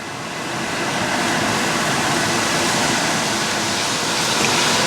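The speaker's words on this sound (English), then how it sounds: "So that simmering honey is going to lift the flavours off the pan that have stuck to it" Honey simmering in a stovetop pan with garlic and sausages gives off a steady, even bubbling hiss that builds slightly and then holds constant throughout, close by and with no talking.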